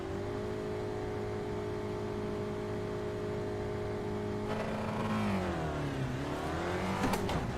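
A race car engine in the iRacing simulator hums steadily at idle, then catches and revs, its pitch sweeping down and climbing again with a sharp rise near the end, close and without talk.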